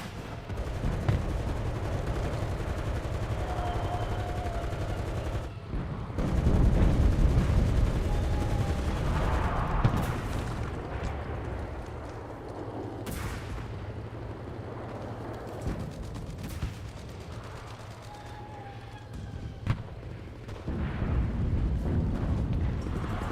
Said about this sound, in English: Artillery! Fire at the square!